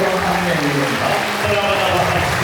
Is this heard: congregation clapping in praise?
yes